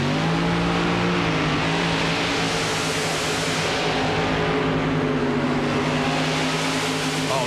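Martin brothers monster truck at a 1998 Houston Monster Jam event, its engine roaring loud and sustained as it revs and accelerates at the start of a run, a dense continuous drone.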